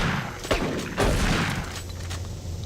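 Bursts of gunfire in Doom 3, a few sharp broadband cracks spaced through a noisy, rumbling game soundscape, loud and close with no talking over them.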